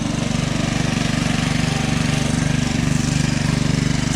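A small engine-driven pump draws water from a village well in the Konkan nearby, running steadily with a continuous rumbling drone, a fast regular pulse and no pauses.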